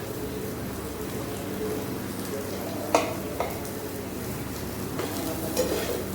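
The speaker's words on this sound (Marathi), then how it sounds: "वाटप आलं लसूण पहिला घातला आणि नंतर कांदा म्हणजे आता थोडंसं लाल होईपर्यंत भाजून घेणार" Garlic and onion roast in a pan with a steady, close sizzle, broken by a couple of sharp clinks of a spoon stirring against the pan.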